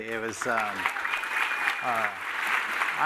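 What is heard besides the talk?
audience applause for the speakers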